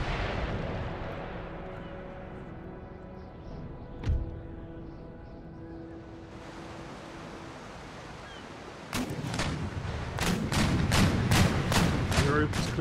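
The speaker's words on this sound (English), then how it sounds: "Europa's clearing her guns into Beric as well." Sailing warship cannon broadsides in Empire Total War, a naval battle game: a low rumbling boom, then a rapid run of sharp, loud cannon volleys in quick succession, with some voices faintly underneath.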